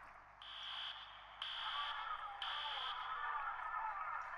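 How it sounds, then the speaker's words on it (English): A fire alarm sounds in the 911 Operator video game: a bright electronic tone pulses in three long bursts of about half a second each, over a steady hiss of background noise. "Find the nearest fire alarm station and activate the alarm."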